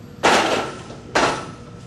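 A loaded barbell is racked onto the bench press uprights after a controlled rep, giving two loud, close metallic clanks about a second apart with a ringing decay and no talking.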